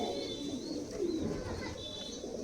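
Giribaz pigeons in a loft give low, soft coos that rise and fall close by over a murmuring background.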